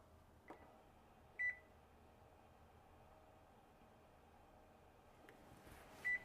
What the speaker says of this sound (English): So the timer just went off